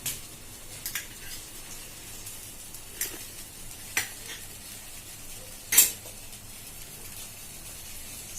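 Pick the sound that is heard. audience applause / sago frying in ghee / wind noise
sago frying in ghee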